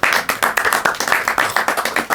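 An audience at a magic show claps in a steady, fairly close burst of rhythmic hand claps lasting about two seconds, with no talking over it.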